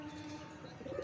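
Pet pigeons kept at home coo softly and steadily in a brief, faint, low murmur, with no talking.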